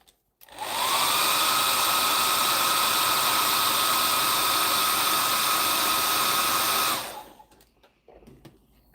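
A hair dryer blows steadily to dry paint on a miniature, switching on after a brief pause and running loud and close with a constant whine for about six seconds before cutting off.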